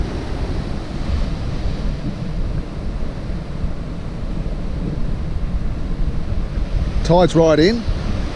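Ocean waves break continuously on a surf beach at Diamond Bay, a steady loud roar mixed with wind rumble, with someone briefly speaking near the end.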